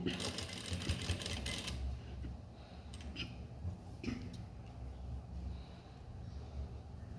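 A sewing machine stitches a blouse nearby with a rapid mechanical whirr at first, then quieter intermittent clicks and handling sounds over a low background hum.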